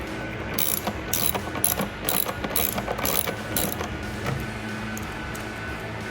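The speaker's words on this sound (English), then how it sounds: "Take the 7mm bolts and tighten those back down." A ratchet tightens 7mm bolts on a 2018-2020 Ford F-150 LED tail light, clicking in rapid repeated bursts up close with steady mechanical rhythm.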